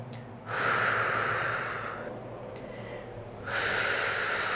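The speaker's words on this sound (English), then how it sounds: "Exhale, inhale." Two long, audible breaths push out through the mouth during a resistance band exercise for seniors, the first forceful and drawn out, then a quieter pause and a second strong exhale, close and alone.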